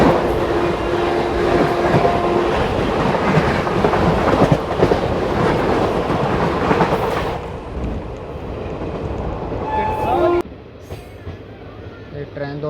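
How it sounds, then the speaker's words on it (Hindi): The 14507 Delhi Fazilka Intercity Express runs on rails, a loud, continuous rumble of wheels and carriages with rhythmic clatter, easing into a quieter roll toward the end. "ये ट्रेन दोस्तों पहुंच रही है करनाल रेलवे स्टेशन"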